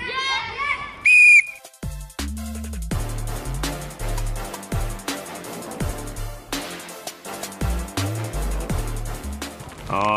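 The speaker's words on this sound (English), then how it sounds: "At the end of each round, my dad's gonna blow the whistle, so you've gotta move to the next station." A whistle is blown sharply at the start, marking the end of a round in a kids' summer fitness challenge, followed by steady rhythmic music with some shouts in the background.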